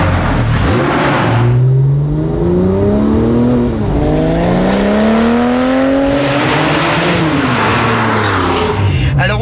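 Porsche 911 Turbo tuned to 690 horsepower, heard from on board as its engine surges hard through several gears, the loud rising roar dropping briefly at each shift before climbing again, continuous and close.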